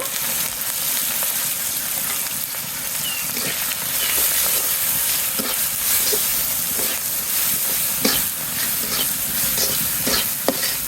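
Prawns fry in a pan with chilli powder and turmeric, giving a continuous loud sizzle with scattered stirring scrapes and taps throughout.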